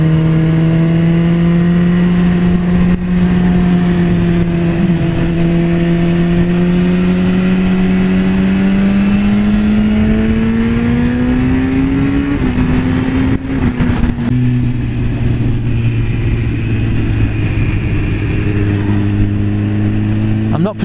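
Loud, sustained engine drone from a BMW S1000RR sports motorcycle on a test ride, rising steadily in pitch as it accelerates, then dropping after a gear change and pulling again, with wind noise throughout.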